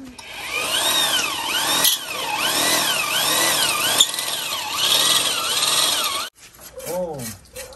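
Electric drill boring holes during house construction in a rural village, a loud whining motor revving up and down in repeated surges before stopping, followed by a short rising whir.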